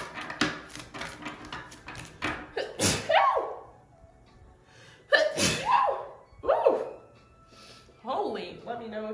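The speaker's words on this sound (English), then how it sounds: "let me know if that sneeze resonated" Several sharp sneezes burst out one after another, loud and close, with short gasping breaths between them.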